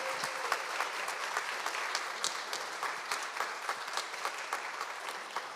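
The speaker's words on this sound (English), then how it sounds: "let's give the folks back up there in the back there a round of applause for helping us out" Steady round of applause from an audience at a university student leader awards ceremony, dense continuous clapping with scattered sharp individual claps, moderately distant, lasting throughout with no talk over it.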